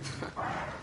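A dog in the video game Far Cry 6 gives a short bark or growl, close and moderately loud, a brief burst with no speech over it.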